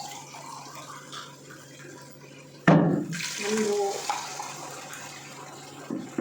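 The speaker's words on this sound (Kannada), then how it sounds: "ಈಗ ನೀರು ಹಾಕ್ಕೊತಾ ಇದ್ದೀನಿ." Water pours into a cooking pot of fried masala for tomato rice, a sudden splashing gush that settles into a steady fill, with a person speaking briefly before it.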